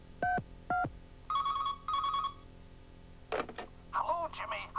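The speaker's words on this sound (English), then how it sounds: "I think I'll phone my brother Jimmy and give him a big surprise" A telephone rings in two short double bursts, followed by a higher warbling ring, in a 1986 British TV advert; voices and brief musical sounds come in toward the end.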